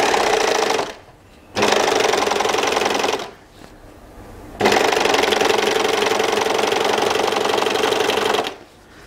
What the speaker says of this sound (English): this is the Janome MyLock 644D that I bought second hand, and we're going to do the overlocking